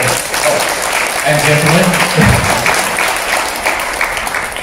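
Festival opening-ceremony crowd in Brisbane breaks into loud, sustained applause, dense clapping filling the room while a voice speaks over it.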